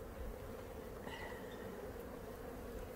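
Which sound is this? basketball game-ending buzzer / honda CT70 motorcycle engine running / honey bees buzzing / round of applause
honey bees buzzing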